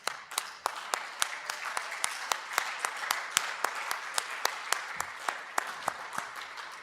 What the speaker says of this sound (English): make a huge clap for them